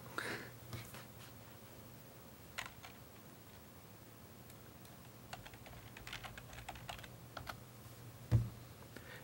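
A web address being typed on a computer keyboard, a soft, steady run of small key clicks alone at low level, with one sharper tap near the end.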